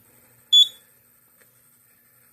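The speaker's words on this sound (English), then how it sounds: "So it actually will chirp this horn when it resets." A Simplex fire alarm horn gives one brief, high-pitched chirp as the system resets, alone in a quiet room, with the start of another chirp at the very end.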